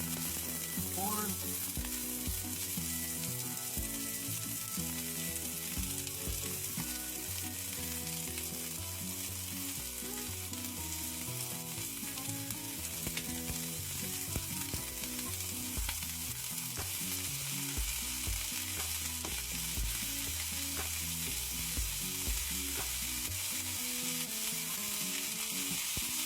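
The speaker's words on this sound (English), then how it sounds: "I've got a skillet just with a little bit of oil because I want it to be kind of dry so it can get the scorch marks on it" Corn kernels sizzle and fry in a skillet with only a little oil, giving a steady, dense crackle that stays close and continuous throughout.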